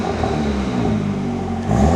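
VW Mk8 GTI with the OPF/GPF deleted and exhaust valves closed, a steady droning idle that rises into a louder rev toward the end, close and with no talking.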